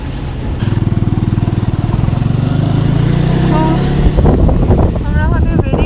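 A motorcycle engine chugs with a steady pulsing throb on a mountain road between Gangtok and Pelling, loud and close with wind noise. Voices come in near the end.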